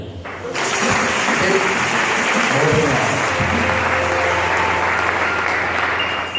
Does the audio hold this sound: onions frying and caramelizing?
no